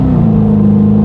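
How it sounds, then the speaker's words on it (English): Supercharged engine of a 2010 Jaguar XKR revving in sport mode, a loud, steady low rumble with a sustained droning note heard close and alone throughout. "If I then move the dial, push it down, put it into sport, it then revs a lot higher"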